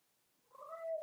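A pet cat lets out a single rising, whiny meow that swells and holds briefly, heard close and alone in a quiet indoor space.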